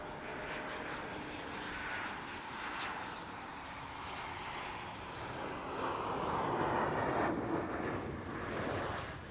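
An Etihad airliner takes off at Zurich Airport, a distant jet engine roar that swells gradually and steadily, heard alone without voices.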